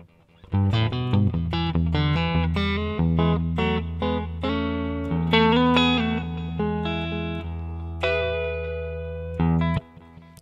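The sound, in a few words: guitar through Mooer GE200 delay effect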